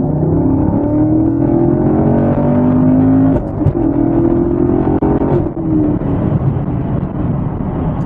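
A 2017 Chevrolet Camaro SS 1LE V8 accelerates hard from inside the cabin, a loud steady engine roar rising in pitch through the gears with a brief dip at a shift, then pulling strongly again.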